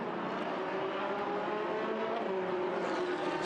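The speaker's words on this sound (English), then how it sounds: "And now the cars are released on the formation lap." Ferrari Challenge race cars pull away on the formation lap of a Trofeo Pirelli race at Paul Ricard in 2015, their engines a steady, loud, continuous drone with no voices over it.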